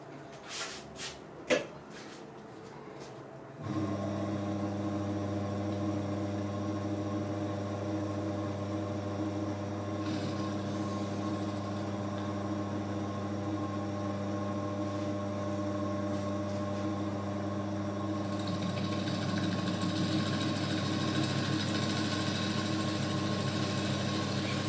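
A TAIG milling machine runs on its first start after a motor replacement, cutting about half a millimetre deep; a few knocks come first, then a steady small motor hum continues throughout, rising slightly toward the end.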